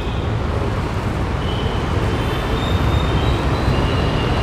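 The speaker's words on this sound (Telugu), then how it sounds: "ఇప్పుడు మనం కరెక్ట్గా హైదరాబాద్లోని మూసాపేట మెట్రో స్టేషన్ కింద ఉన్నాం" Busy road traffic beneath Moosapet metro station in Hyderabad, a steady loud roar of vehicles with a rail-like rumble overhead and no speech.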